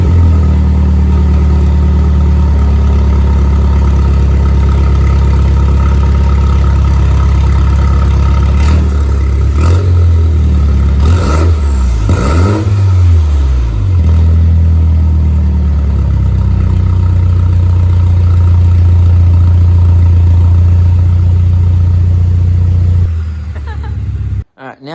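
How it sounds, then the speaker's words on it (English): A Mini Cooper S with its exhaust removed starts and idles with a loud, raw, rasping drone, then revs sharply several times before settling back to idle and cutting off at the end. "now we're going to start it up without any exhaust on and hear how it sounds"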